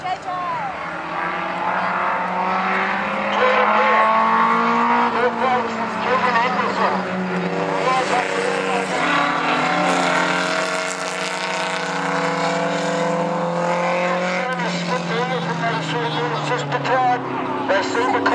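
Junior race cars, including a Holden Commodore, roar around a circuit in a close battle, engines droning and shifting pitch continuously beneath a steady flow of race commentary.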